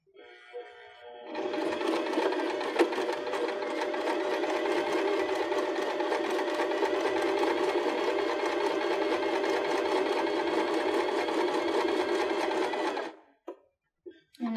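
A Baby Lock BL9 sewing machine stitches cork fabric in one steady, loud, close run of rapid needle strokes lasting about twelve seconds, then stops abruptly, followed by a few light clicks.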